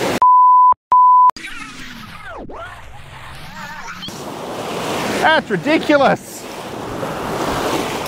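Ocean waves surging against a breakwall in the wake of a passing ship, a broad rushing wash of water with wind noise, opening after two short electronic beeps and a brief spoken remark.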